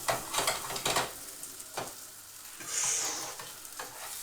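An egg, ham and cheese toastie fries in a buttered pan with a steady, fairly quiet sizzle, punctuated by a few scraping strokes and a brief hiss burst midway; no one speaks.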